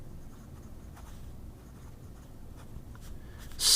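A No 8 gold-plated fine steel fountain pen nib writing wet on paper, giving a soft, steady scratchy scrape with small stroke ticks, faint and close.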